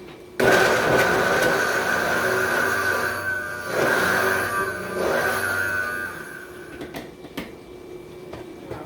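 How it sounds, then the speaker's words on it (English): A blender whirs loudly through a vegan cheesecake crust mixture, running in surges that dip and rise again over several seconds before cutting out, followed by a few knocks and clatters, close by with no talking. "so let us blend this together. You want to make sure that it's blended well"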